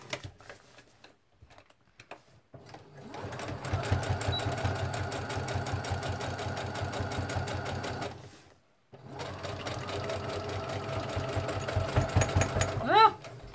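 A sewing machine stitches a paper-pieced quilt block, running in two long, steady bursts of rapid mechanical chatter with a short pause between and brief handling noises at the start.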